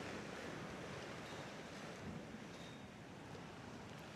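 Waves crash against the sheet piles along the Military Road on the Isle of Wight, heard as a faint, steady rushing surf with some wind, no voices.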